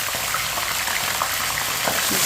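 Steady, loud sizzling and bubbling as water is added to a hot pan of browned onions, a continuous frying hiss with faint stirring, no voices.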